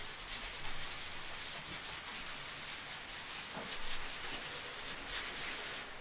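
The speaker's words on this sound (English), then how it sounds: "Now I'm gonna begin sanding it." A wet 3M sponge rubs over a paint run on a painted panel in a faint, steady wet-sanding hiss, the back-and-forth strokes softly rising and falling.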